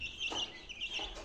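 Chickens in a small poultry flock give a couple of short, soft clucks, faint and brief, with no one speaking.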